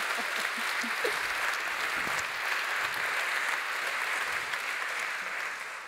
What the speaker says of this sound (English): I just want to give another round of applause to Brian and Jen for joining us today